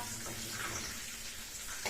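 Steady, close sizzling and crackling of meat chops frying in a pan, continuous hiss with no talking.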